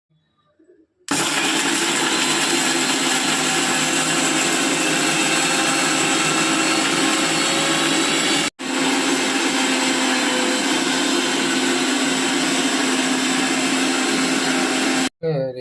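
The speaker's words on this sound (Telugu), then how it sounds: "మిక్సీ పట్టేస్తాను పట్టేసి" Mixer grinder blitzing whole masala spices (coriander seeds, cinnamon, cloves, ginger, cumin, garlic) for a fish curry, a loud steady motor whine with one brief break, starting abruptly and running close for about fourteen seconds.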